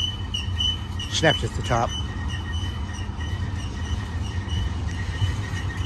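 A BNSF double-stack domestic intermodal freight train passes near San Bernardino with a steady low rumble and a few sharp wheel squeals, while a person talks over it.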